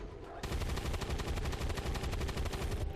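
Rapid automatic gunfire in XCOM 2 Long War 2 bursts in after a short lead-in and keeps rattling loudly and steadily to the end, dense repeated shots with no talk over it.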